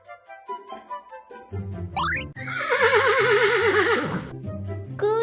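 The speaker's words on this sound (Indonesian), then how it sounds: "Kuda, horse." A horse gives one long, loud whinny that rises and then wavers down, framed by short musical tones before and after it.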